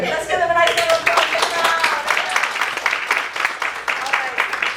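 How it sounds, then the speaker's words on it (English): Audience applause at an improv comedy show, steady clapping from a crowd that fills the space for several seconds after a brief voice at the start. "let's give them a nice little applause"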